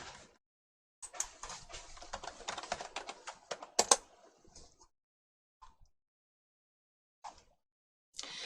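A computer keyboard is typed on during a smartphone app coding lesson: a close, quick burst of clattering keystrokes, then a few sparse isolated taps separated by quiet gaps.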